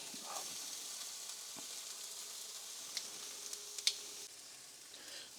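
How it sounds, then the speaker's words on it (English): Shrimp sizzles steadily in a hot pan while cooking alongside beef for spring rolls: a continuous, close hiss of frying with a few small pops and clicks scattered through it, and no voices. "while that shrimp is still sizzling"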